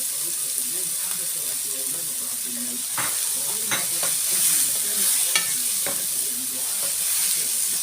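Chopped onion sizzles in oil in a pan while being stirred for a home-style fish dish, a steady frying hiss broken by scattered scraping strokes, with a voice talking now and then.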